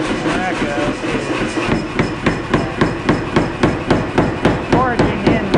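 Steady rhythmic hammer blows ring out on hot wootz steel while forging a chef's knife, about two strikes per second, loud and close, with metallic clanks over a background rumble.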